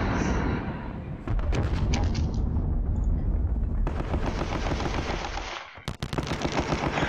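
Gunfire from a John Tiller war video game, a dense roar of rapid machine-gun bursts and shots that keeps going almost without pause, with one brief dip before the firing resumes at full volume.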